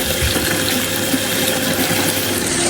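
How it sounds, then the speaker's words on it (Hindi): Water runs steadily and loudly while rice is washed, a dense continuous splashing rush close by, with no talk. "चावल साफ़ हो रहे हैं जी, चावलों को धो रहे हैं।"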